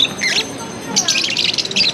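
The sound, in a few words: birds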